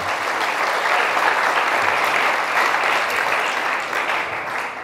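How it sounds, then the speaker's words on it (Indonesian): Audience applause after a speech to youth and students in Indonesia, a loud, continuous wash of many people clapping that holds steady for several seconds before easing slightly. "tepuk tangan untuk kita semua dulu"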